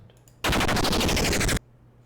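A big ship damage sound effect for the Super Sky Hero game: one loud, harsh burst of rapid machine-gun-like rattling that lasts about a second, then cuts off.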